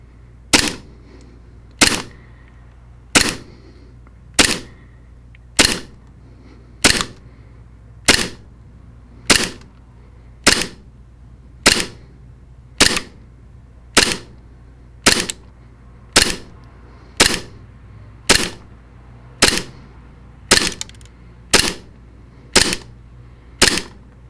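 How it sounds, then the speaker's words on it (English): A Taran Tactical Alpha airsoft pistol fires BBs in a long, steady series of about twenty sharp, evenly spaced cracks, close and loud, with quiet gaps between shots. "So when we chrono the pistol, we notice with .20 gram BBs, we're shooting on average around 340 to 360 FPS."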